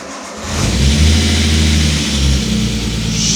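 A flood-damaged Nissan RB engine in an S13 chassis turns over and catches, rising to a loud, close rumble that settles into a steady idle.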